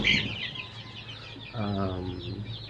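Day-old chicks in a brooder set up in an empty room of a house, giving a steady chorus of high, shrill peeping nearby, with a low murmur of a voice and background noise underneath.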